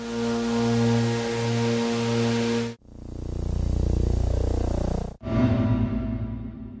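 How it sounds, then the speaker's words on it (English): Star brightness flickers turned into sound give three distinct tonal drones with sudden breaks between them, steady hums with wavering overtones, loud and synthetic, no voices. "The flickers have also been converted to sound, so you can hear what a star looks like."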